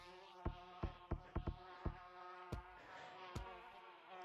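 Bees buzzing in a video game: a faint, steady droning hum punctuated by a series of short sharp clicks, coming and going unevenly.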